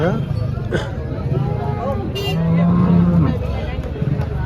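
Cows lowing at a busy cattle market in Chalisgaon, with a drawn-out moo rising over steady crowd babble and nearby talk.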